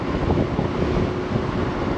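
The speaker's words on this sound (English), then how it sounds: "even though it is very windy today" Steady wind buffets and rumbles across the microphone during an electric motorcycle ride, a continuous low roar with no voices.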